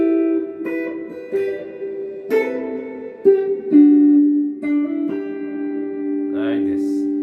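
Guitar picking out the intro of William Bell's "I Forgot to Be Your Lover": clean single notes and double stops plucked one by one, ringing and sustaining, close and moderately loud, with a brief voice near the end.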